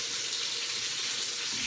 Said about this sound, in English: fill it with some water. Cold water